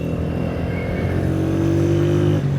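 A motorbike engine runs steadily close by, its low throbbing tone rising slightly in pitch as it is revved toward the end, continuous and loud with no talking.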